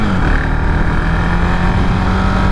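Steady, loud engine drone and road rush from a 2017 KTM 690 Duke motorcycle while riding, a continuous close hum with a low tone that shifts slightly through the whole stretch.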